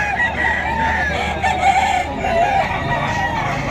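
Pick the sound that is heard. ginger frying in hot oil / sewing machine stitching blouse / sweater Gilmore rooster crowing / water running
sweater Gilmore rooster crowing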